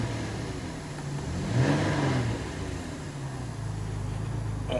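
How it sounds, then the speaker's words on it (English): A 2008 Dodge Magnum engine that had sat for about a year rises into a brief rev, then settles back to a steady idle, close and moderately loud with no talking. "Let's see if the thing rev up."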